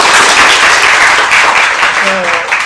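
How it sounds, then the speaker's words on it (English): An audience at a business school interview event gives a round of applause, dense clapping that stays steady and loud, with a voice briefly audible beneath it toward the end. "give him a round of applause."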